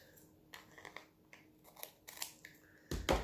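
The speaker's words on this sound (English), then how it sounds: "Scissors." Scissors snip paper in a series of short, close crisp cuts, ending with a louder double snip.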